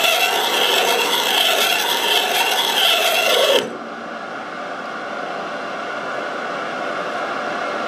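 A metal lathe takes a light five-thousandths cut with the compound while machining a tea kettle whistle, a loud steady rasping hiss that stops abruptly partway through, leaving a quieter background hum.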